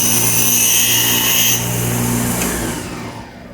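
An angle grinder works on a lightweight aluminum light bracket, screaming loudly and steadily up close before easing off and winding down at the end.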